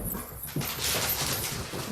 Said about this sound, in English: My dogs are really intent on distracting this.